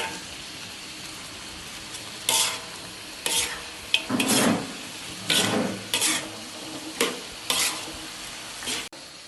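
Fried chicken stirred into dried chili sambal bubbling in oil, with repeated scraping strokes of a spatula in the pan over a steady sizzle, ending in a sharp clank.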